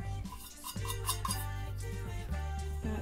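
A utensil stirring oats into cookie batter in a bowl, with soft scraping and clinking against the dish over a few seconds, close and fairly quiet.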